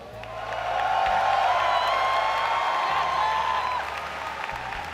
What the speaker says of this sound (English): Let's hear it for Huk